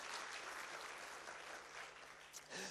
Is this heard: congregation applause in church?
yes